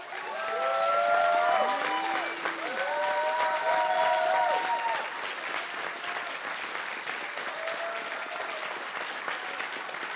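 Closing-ceremony audience at a hackathon giving a dense round of clapping with some cheering, loud at first and easing slightly, while voices call and talk over it.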